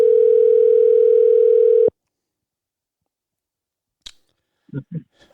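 A telephone dial tone sounds steadily for about two seconds and cuts off abruptly. Silence follows, then a click and a few brief soft thumps.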